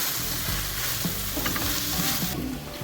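Ingredients including capsicum sizzle steadily in a hot pan for chicken chow mein, with a spoon stirring and scraping through them, close and continuous, with no talk.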